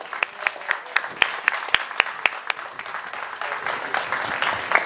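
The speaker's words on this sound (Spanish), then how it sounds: "Recibamos con el aplauso que se merece" Sparse, uneven clapping from a small audience at a gala, greeting a performer, with distinct individual claps at first that thicken into a fuller patter, fairly quiet overall.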